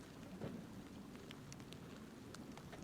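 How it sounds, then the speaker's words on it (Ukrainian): Rain falling at Lac de Panneciere in France during a carp-fishing championship, a faint, steady hiss of drops with occasional low rumbles, and no voices. "у нас знов розпочався дощ"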